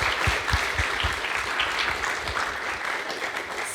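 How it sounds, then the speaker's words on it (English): A room full of people gives a sustained round of applause after a young performer's act at a music careers talk, dense steady clapping with a few distinct claps standing out, continuous throughout. "can we also give another big round of applause, please, to young Athena for that amazing performance earlier on."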